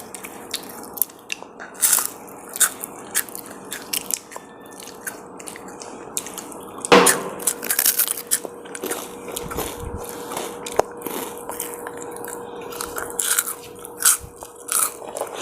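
Very crispy snacks are bitten and crunched close to the mic, giving sharp, irregular crunches and crackles with quieter gaps between bites and no talking.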